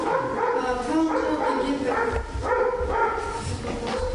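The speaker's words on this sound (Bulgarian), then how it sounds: "Кучето лай" A dog barks and yips repeatedly in short bursts, with whimpering tones mixed in, heard beneath people talking.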